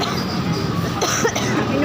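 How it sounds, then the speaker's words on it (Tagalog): A breathless person coughs on an overpass, a short rough burst over a constant background hum. "Inuubo ako."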